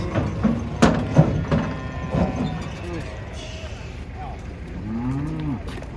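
Cattle moo as they come off a truck at a contest for unusual cows, with deep drawn-out calls up close, clattering knocks and people talking throughout.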